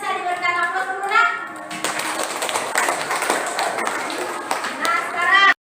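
A classroom of students applauds classmates who scored 100, a dense burst of clapping from many hands that runs for several seconds after a teacher's short spoken prompt, with children's voices mixed into the noise.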